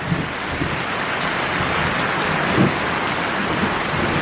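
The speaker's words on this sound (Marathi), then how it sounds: "पाऊस बघा जोरातच आला" Heavy unseasonal rain pours down at night in a Konkan village, drumming steadily on a courtyard and surfaces as a dense, continuous roar, with a faint low rumble of distant thunder partway through.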